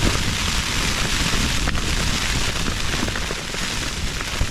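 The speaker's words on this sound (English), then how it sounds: "you hear the wind picking up and the rain." On Dartmoor in a snowstorm, wind and rain beat steadily against a shelter in a dense, continuous hiss with gusting swells and a brief sharp knock, and no voices.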